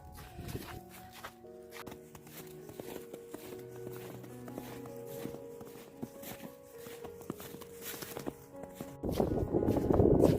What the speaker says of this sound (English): Can you hear me crunching in the snow?